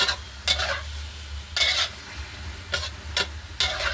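Pork belly stir-fried with cabbage and garlic in a pan, hissing under repeated bursts of spatula scraping and tossing, close and fairly loud, with no one speaking.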